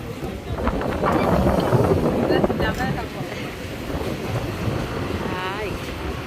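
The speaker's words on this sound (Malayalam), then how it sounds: "ഭയങ്കര കാറ്റ്." Strong wind roaring and gusting against the microphone, swelling louder early on and then easing slightly, with people talking and exclaiming over it.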